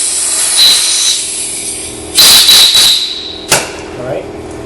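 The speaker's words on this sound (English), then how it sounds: "Shoot a little air in there and clear it out again." Compressed air blasts clearing aluminum filings from a TPMS valve stem, several short loud hissing bursts with a faint high whistle between them, while someone talks.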